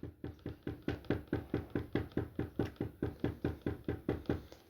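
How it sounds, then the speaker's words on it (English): Someone knocks on wood in a long steady series of about twenty evenly spaced, close, hollow raps, with no talking over it. "Wow, that's a long-ass knock there"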